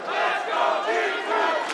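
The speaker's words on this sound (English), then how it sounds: "Crowd coming to life." Esports arena crowd at a Rainbow Six Siege Six Invitational match between Empire and G2 on Coastline, a loud rhythmic chant rising and falling in waves from many voices.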